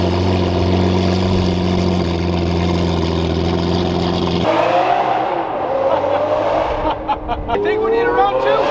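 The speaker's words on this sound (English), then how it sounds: "the FI exhaust on my Lamborghini Aventador" A Lamborghini Aventador with an Fi exhaust roars at steady high revs, then drops off and climbs again in sharp rising sweeps, loud and close, with crackling pops near the end.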